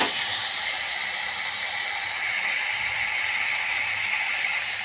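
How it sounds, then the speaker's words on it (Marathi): Tomato and onion sauté in a pan for dal tadka, giving a steady, loud, close hiss of sizzling that runs unbroken for the whole stretch with no talking. "आता आपण हा टोमॅटो आणि कांदा परतून घेऊया छानपैकी."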